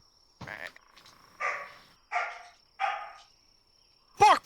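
A person imitates a dog with a few loud, separate barking shouts, spaced about a second apart and ending in a sharper yelp.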